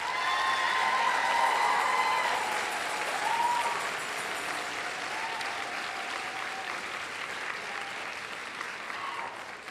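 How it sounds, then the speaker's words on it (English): A graduation crowd at a North Idaho College commencement gives the faculty and staff a round of applause, dense steady clapping in a large hall that gradually thins. Faint tones sound beneath it. "I ask you to join me in offering the faculty and staff of North Idaho College assembled here today a round of applause"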